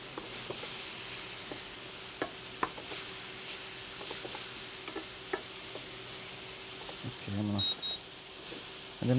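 Sliced zucchini cooks in a pan for veggie burgers, a faint, steady sizzle with a few light clicks and a short beep near the end, while a voice speaks briefly in the background.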